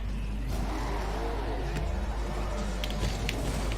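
A car engine revs steadily in a Rocket League match, a continuous droning whine with a strong low rumble and scattered game clicks throughout.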